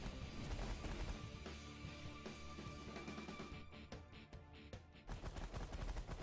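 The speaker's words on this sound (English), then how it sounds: "we will turn on the minigun on auto fire" Minigun on auto fire in the space strategy game The Last Federation, a dense continuous rattle of rapid shots with crashing impacts, loud and unbroken apart from a brief thinning near the end.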